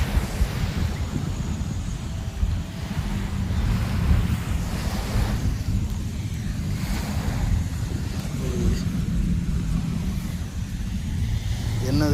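Sea waves wash onto the beach at Pattaya, Thailand, a loud continuous roar of surf with swelling surges, heavy wind buffeting the microphone throughout.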